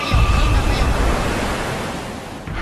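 Tsunami wall of water surging onto a beach in Thailand in 2004, a loud, roaring wash of rushing water and surf, continuous and close, with wind-buffeted noise.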